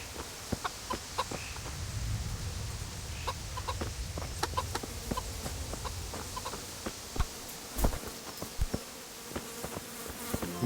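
Chickens cluck in the medieval game Kingdom Come: Deliverance, with scattered short clucks and sharp ticks over a steady buzz of insects and a low ambient hum.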